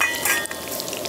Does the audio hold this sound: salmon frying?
yes